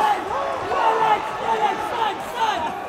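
A boxing crowd at a Grand Prix fight roars steadily, spectators on their feet in a loud, continuous wash of cheering with chanting swells.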